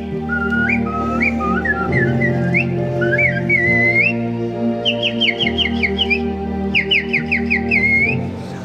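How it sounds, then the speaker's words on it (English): A woman whistles a bright, warbling melody with quick trills and birdlike chirps over a steady instrumental accompaniment. "I love the lady doing her whistling"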